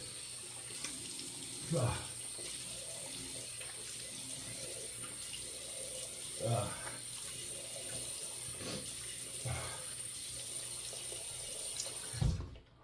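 A bathroom tap runs steadily into a sink while a face is wetted before a shave, with a few soft splashes and slaps of water breaking through the constant close flow.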